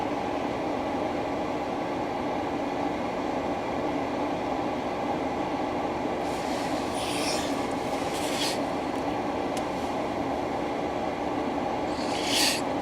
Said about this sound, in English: looks like this train's starting to slow down a little bit.